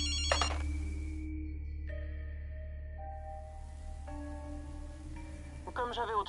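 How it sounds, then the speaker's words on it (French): A telephone in the video game Ghostwire Tokyo, rigged to ring, plays a sustained electronic ringtone whose steady tones step between pitches, with a soft ambient bed beneath and brief clicks at the start and end. "j'ai bricolé ce téléphone pour qu'il sonne et joue un enregistrement en boucle"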